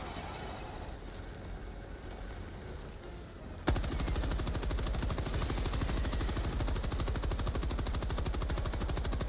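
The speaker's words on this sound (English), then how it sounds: "Sometimes I fire just to make a whole bunch of noise. I like the red tracers that tell you that your mag is about to come to an end." Sustained automatic gunfire from a rifle in the Helldivers 2 video game, a dense rapid burst that starts abruptly partway through and continues loud and unbroken to the end, after a stretch of quieter background game noise.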